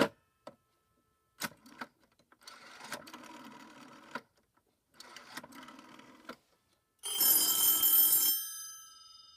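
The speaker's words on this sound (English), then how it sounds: "So you can hear that they're both ringing." Two push-button telephones on a PBX system ring in repeated electronic bursts separated by pauses, ending with a loud metallic bell ring that cuts off abruptly.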